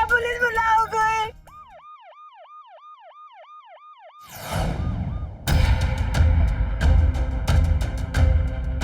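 Ambulance siren wailing in a steady rising and falling cycle at moderate level, alone after a burst of music, then drowned out by loud dramatic music and crashes in a Hindi crime drama scene.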